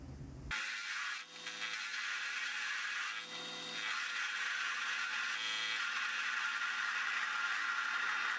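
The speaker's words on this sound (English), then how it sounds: "I'm running the lathe as slow as I can, and I think it's still too fast for the steel." A mini lathe parts steel with a high-rate parting blade, running slightly too fast; a steady, loud metallic whir and scraping cut continues throughout, with brief dips in intensity and no talking.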